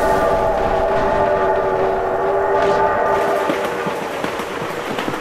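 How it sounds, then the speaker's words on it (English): A train rolls past in the driving game BeamNG Drive, a loud, steady rumble with a sustained horn tone over continuous rail noise, close and dominant throughout. "Oh my God, train!"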